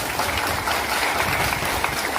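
Audience clapping for a first customer at an office celebration, a dense, even round of applause from many hands, loud and sustained throughout.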